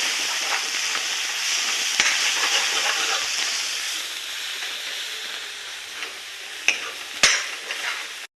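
Vegetable curry stirred in a pan, a continuous sizzle with repeated scraping and a couple of louder clanks of the spoon near the end, close and without speech.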